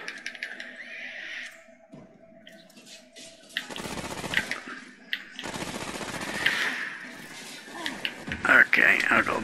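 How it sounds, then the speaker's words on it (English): Machine gun fire in a video game comes in several loud bursts under a player's talk, mixed with game effects and higher-pitched squeals. "I assume that shooting is at me."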